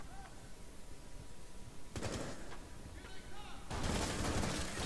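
Gunfire in the tactical shooter game Rainbow Six Siege, with two loud bursts of shots, one midway and a longer one near the end, over quieter background game sound.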